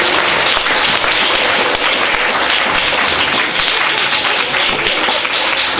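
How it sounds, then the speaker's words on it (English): An audience at a school poetry showcase for KS2 pupils gives a loud, sustained round of applause, a steady wash of clapping with no pauses. "give a round of applause."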